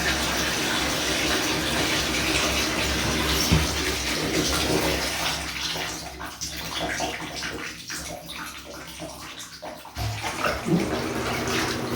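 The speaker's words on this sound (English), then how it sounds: "let's clean the tub out and try to turn on some water" Tap water gushes steadily into a bathtub in a shower being tiled, a loud continuous splashing rush that wavers slightly, with a few small knocks partway through.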